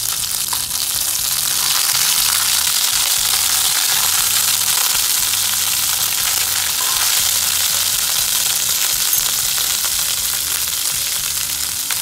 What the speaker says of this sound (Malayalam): ഒരു 1/2 സ്പൂണോളം ഇഞ്ചി വെളുത്തുള്ളി പേസ്റ്റ്. ഇതിനെ നന്നായിട്ട് വഴറ്റുക.